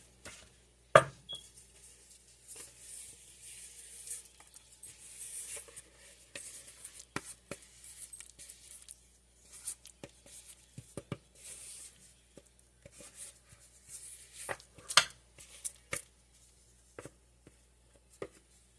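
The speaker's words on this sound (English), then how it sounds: "Let's get our spatula. And then I'm going to scrape it." A spatula scrapes around the cups of a muffin pan holding blueberry streusel muffins, giving irregular close scratches and sharp clicks of metal on metal, scattered with quiet gaps and no talking.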